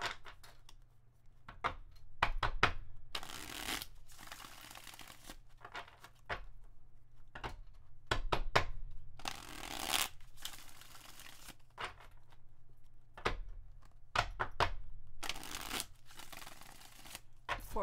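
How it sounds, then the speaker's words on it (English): A deck of tarot cards being shuffled up close, in repeated short bursts of riffling and crisp card slaps separated by quiet pauses, fairly soft and without talking. "I just want to do some shuffles here to really clear the energy."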